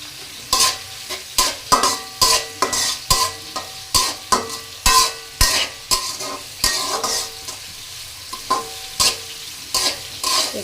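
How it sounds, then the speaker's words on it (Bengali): Onions sizzling in a wok while a spatula scrapes and stirs them in a steady rhythm of repeated strokes, the frying hiss loud and close, with no one talking. "পেঁয়াজগুলোকে ভালো করে ভেজে নিব।"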